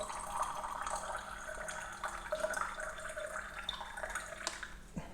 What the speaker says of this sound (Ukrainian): Отже, наливаємо воду до 130 грамів.